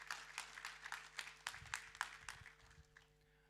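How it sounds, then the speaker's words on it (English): Audience applause in a church after two performers are welcomed to the stage, a moderate wash of scattered clapping with a few sharper individual claps, fading out after about three seconds. "Let's give them a round of applause."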